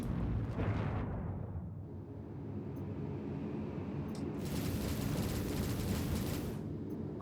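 Drake Corsair ship weapons in Star Citizen firing as a dense, continuous roar of rapid blasts, loud and sustained, swelling again after a brief easing.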